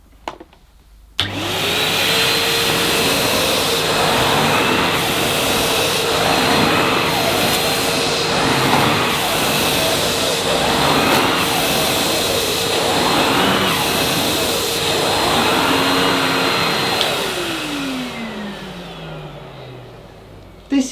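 A smaller turbine-driven vacuum powerhead runs over plush pile carpet. It switches on with a sharp start, gives a loud steady whine that swells and dips with each forward and back pass, then spins down and stops.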